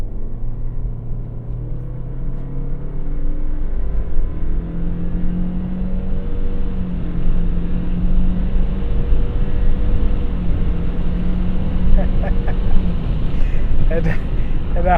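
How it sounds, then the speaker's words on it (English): A 2017 Subaru Outback launching hard from a standstill in sport mode, engine rumble climbing in pitch through a rising rev with gear changes, heard from inside the cabin and growing louder as it accelerates. "then I'm going to launch this car"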